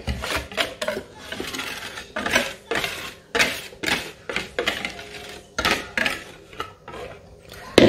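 Repeated scraping and clinking as a utensil stirs a brioche suisse mixture in a saucepan, irregular strokes with short pauses between them, close and fairly loud.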